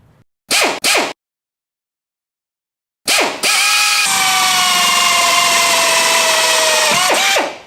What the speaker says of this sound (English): Go down the line and drill them all out.